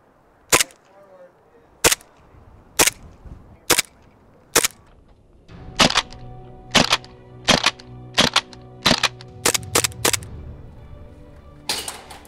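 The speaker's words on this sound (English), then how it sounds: "This is my full metal gas blowback 1911. It uses a gas operated system and has full working safety and slide release." A full metal gas blowback 1911 airsoft pistol fires a string of sharp, loud cracks. The first shots are spaced about a second apart, then a quicker series follows over a steady background hum.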